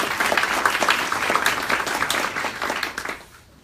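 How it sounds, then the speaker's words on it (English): Audience at a charity hackathon opening presentation in Des Moines applauds the volunteer helpers, a dense, steady patter of many hands clapping from nearby that fades out in the last moments. "So another round of applause for them."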